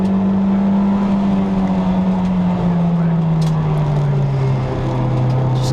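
Onboard a Toyota MR2 race car at Brands Hatch, its engine drones loud and steady throughout, pitch sliding slowly down as the car lifts off, with commentary voices faintly over it.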